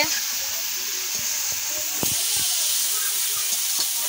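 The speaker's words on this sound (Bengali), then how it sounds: "মাংস রান্না করছে" Meat curry cooking in a pan in a home kitchen, giving a steady loud sizzle and steam hiss with occasional soft knocks and stirring clinks throughout.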